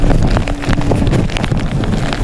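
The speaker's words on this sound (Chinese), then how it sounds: "刚才一阵风比较强" A strong typhoon-driven gust of wind sweeps a street in Kenting, Taiwan, roaring loudly and buffeting the microphone in rough, continuous bursts for a couple of seconds.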